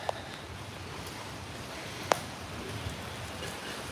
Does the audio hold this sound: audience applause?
no